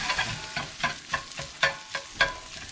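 Jimmy Dean sausage crumbles fry in a pan for biscuits and sausage gravy, a soft sizzle under regular scraping strokes of a utensil, about twice a second, close up.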